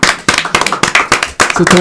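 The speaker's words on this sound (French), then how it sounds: "Applaudissements pour Marcel, s'il vous plaît" Audience claps in sharp bursts for a guest named Marcel at a live comedy show, loud and close, with several uneven clusters of hand claps over roughly two seconds.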